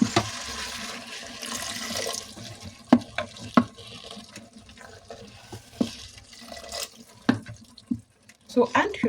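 Water poured into a pot of dried pea curry being cooked for serving with rice, making a steady splashing pour with clinks and stirring knocks, up close and alone.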